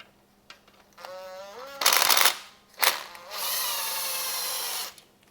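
Impact or power tool removing the rod bearing cap bolts from a BMW S85 V10 engine, with two loud bursts of rattling noise and a longer, steady whirring run, close up and with no talk over it.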